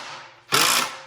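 A RIDGID sub-compact 18V driver in automatic mode tightens a bolt already set in a wall, giving a short, sharp buzzing whir of about a third of a second after a softer lead-in.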